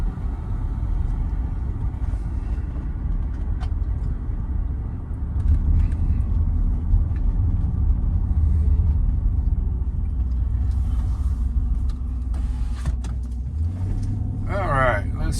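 A 2011 Dodge Durango R/T drives along the road with a continuous low engine and road rumble heard from inside the cabin. The engine swells a little partway through, and a person talks over it.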